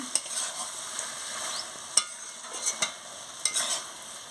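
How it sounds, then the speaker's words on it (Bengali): Small chuno fish frying in a pan for chacchari, a soft continuous sizzle with occasional crisp spoon strokes scraping and tapping as they are stirred, no voices. "মাছগুলো দিয়ে ভালো করে নাড়িয়ে নিচ্ছি"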